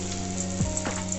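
Onion and lentil pakoras fry in hot oil with a steady, hissing sizzle and a soft bubbling burst as batter drops in, close and even, no talk.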